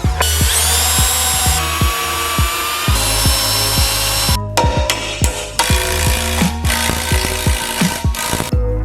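A power drill bores holes into a steel skid plate on a Jeep TJ fuel tank setup, whining in repeated bursts with sharp stops and clanks between, close and loud with no talking.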